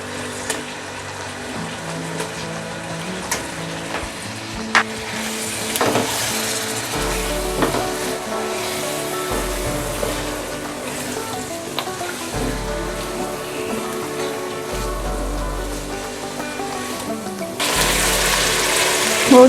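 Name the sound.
chicken frying in a pan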